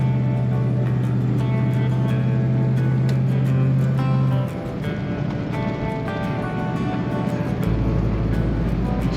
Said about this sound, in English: Corners the way a 1960 Cadillac should.